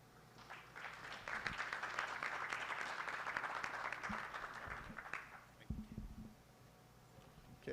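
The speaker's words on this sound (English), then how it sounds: "round of applause" Audience applause swells and holds for several seconds at a talk, a dense wash of clapping that fades out, followed by a few thumps and faint voices.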